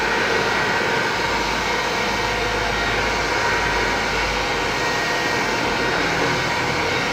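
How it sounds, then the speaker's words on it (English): A heat gun blows hot air over craft foam to shape a calla lily flower. It gives a loud, constant whooshing roar, close and unbroken throughout, with no speech. "So be careful because the heat gun is really hot."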